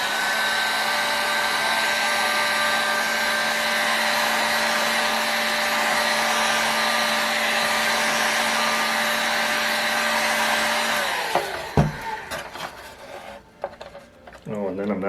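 A heat gun blows a loud, steady whine while warming fiberglass resin on a wooden center section, then cuts off near the end and leaves scattered handling clatter.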